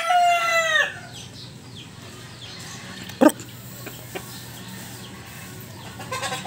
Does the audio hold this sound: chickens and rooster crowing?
yes